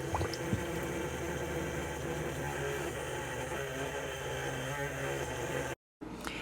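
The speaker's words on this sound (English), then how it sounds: "that little toggle broke and I could not get the water to shut off" Water rushes steadily from a broken RV water toggle that won't shut off, a constant loud hiss and gush that drops out briefly near the end before resuming.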